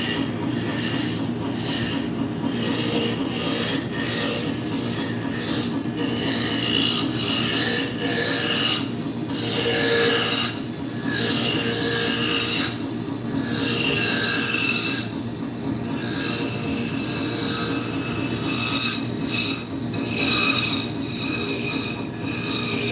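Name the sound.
roughing gouge cutting wood on a lathe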